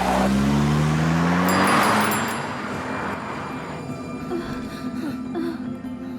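A car drives off in a Hindi romantic comedy film, its engine revving loudly at first and then settling into a steady, fading hum with road noise.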